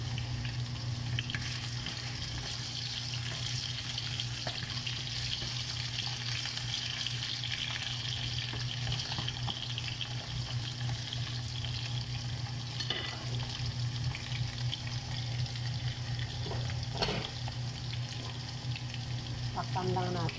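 Carrots and other vegetables fry for chicken afritada, giving a steady, even sizzle throughout with occasional stirring clinks, close and continuous, with brief talk in the background.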